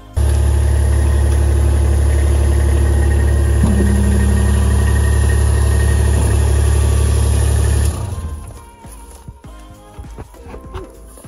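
A Kubota RTV X1100C utility vehicle fitted with a front snow plow and hydraulic lift bed runs loud and steady at close range for about eight seconds, then its engine drone drops away into quieter rumbling and clatter.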